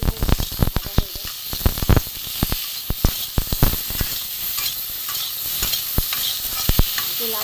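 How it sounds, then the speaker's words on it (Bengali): Pointed gourd (potol) fries in hot oil while a spatula stirs it, giving a loud, steady sizzle punctuated by frequent scraping clacks and knocks against the pan. "পটল ভাজার সময় একটুখানি অল্প করে নুন দিয়ে দিলাম"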